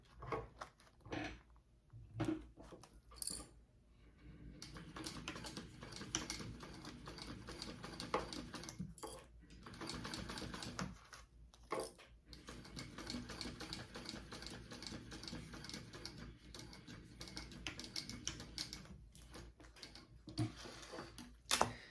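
A sewing machine stitches two rows on a fabric wallet in bursts of rapid mechanical whirring, separated by short pauses and handling clicks, recorded close with no talking.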